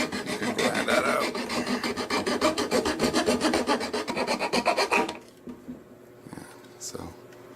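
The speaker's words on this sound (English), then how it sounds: "you can use just about any thread as long as it's big enough you can hold it in your hand, and then just you can grind that out." An ABS 3D print has a threaded hole ground out by hand with a thread, making rapid, rhythmic close rasping strokes for about five seconds before stopping abruptly, followed by faint handling noises.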